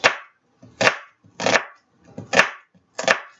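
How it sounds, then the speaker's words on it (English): Knife chopping an onion into small dice on a cutting board, five or six crisp, evenly spaced chops close up with no talking. "Then we're going to make cuts across our parallel. And it's going to give us small, tiny dice of onion."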